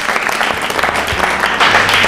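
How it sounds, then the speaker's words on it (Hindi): An audience at a state-round election quiz show applauds the contestants, a brief, loud, continuous burst of clapping that swells near the end. "तालियां बजाए इन सभी के लिए।"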